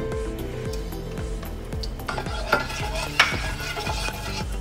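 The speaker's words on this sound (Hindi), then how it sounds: "अब इसमें थोड़ा मैं घी डाल रही हूँ।" Dry nuts being stir-fried in ghee, with a soft sizzle under rhythmic scraping of a spoon against the pan and a couple of sharper clinks.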